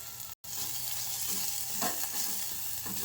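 Oil tempering of ajwain seeds, crushed green chilli, garlic and turmeric powder frying in a pan, giving a steady bright sizzle with a few soft stirring scrapes and a brief dropout near the start.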